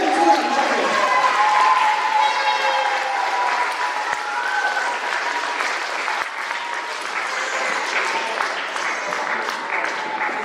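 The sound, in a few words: applause for the 9th grade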